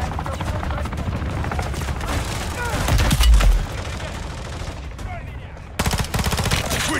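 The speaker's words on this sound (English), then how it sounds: "Taking fire over here!" Rapid bursts of automatic gunfire and sharp shots crackle loudly through a Call of Duty: Modern Warfare 3 Zombies match, overlapping with shouted voices and explosive booms.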